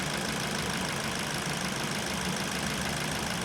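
A Ford Focus sedan engine idles steadily, a constant mid-low rumble with an even mechanical texture and no talking.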